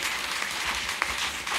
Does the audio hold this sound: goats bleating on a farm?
no